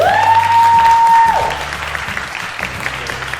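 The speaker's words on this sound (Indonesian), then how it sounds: "Beri tepuk tangannya." Audience applause at a school performing-arts event in Surabaya, loud and steady for about a second and a half before thinning into scattered, fading claps alongside a faint tone.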